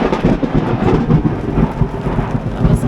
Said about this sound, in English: I don't like motoring around out here in a lightning storm